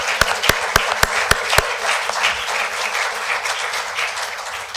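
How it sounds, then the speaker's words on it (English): Audience applause for Jim Wanczak at a county commissioners debate, opening with a few sharp individual claps before settling into a steady, moderately loud round of clapping. "How about a round of applause for Jim Wanczak?"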